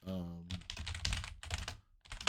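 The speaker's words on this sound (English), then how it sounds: "You get to hear my typing" Fast typing on a computer keyboard, a dense run of close, crisp key clatter with a couple of short pauses, right after a brief bit of voice at the start.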